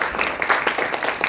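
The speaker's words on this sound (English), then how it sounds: "Can you give him a round of applause?" Brief burst of audience applause for a guest, Imam Khalid Latif, at a forum event; a room of clapping hands sounds steady and fairly dense across the short moment, with no talk over it.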